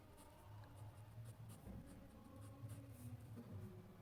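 A pen scratches across paper in short strokes, faint and close, with steady soft scribbling and brief pauses between words against a low room hum.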